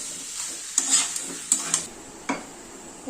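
Parathas toasting in a little oil on a hot pan, a soft steady sizzle broken by a few sharp scraping and tapping knocks from a spatula.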